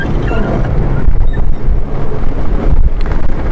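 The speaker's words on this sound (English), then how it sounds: "the sails are up and the wind's blowing nicely" Strong wind roars over a sailboat running the trade winds on the open sea, a steady loud buffeting rush with gusty surges and microphone-rattling wind noise throughout.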